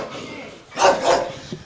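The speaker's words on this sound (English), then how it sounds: "She's a crossbreed of Rottweiler and German Shepherd. She's quite aggressive and excellent for protection." An aggressive Rottweiler and German Shepherd crossbreed guard dog lets out a couple of close, loud barks, with a softer sound just after and background talk around it.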